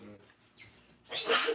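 A single sneeze at a family taco dinner at home, a short sharp burst close by that comes after a moment of quiet background murmur.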